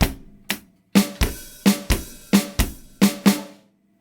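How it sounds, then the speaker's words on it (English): Drum kit playing a beat: sharp snare hits, kicks and open hi-hat strikes in a steady spaced rhythm, close and loud with no talk. "Snare followed by a kick and an open hi-hat."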